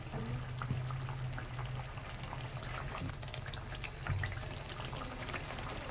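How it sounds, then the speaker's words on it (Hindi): Cooking oil, 125 grams, poured into a karahi of chicken tikka masala paste, giving a steady liquid pour with faint sizzling and bubbling throughout, fairly quiet and close, with no talk. "अब इसमें हम तेल डालेंगे 125 ग्राम"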